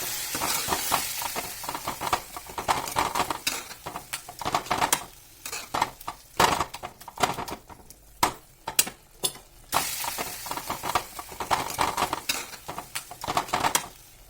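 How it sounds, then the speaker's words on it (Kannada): Boiled brinjal and tomato are mashed and stirred in a pan with sizzling tempering, irregular scraping and clinking strokes over a soft frying hiss, close by with no talk. "ಒಗ್ಗರಣೆ ಹಾಕಿ ಸ್ಮ್ಯಾಶ್ ಮಾಡಬೇಕು."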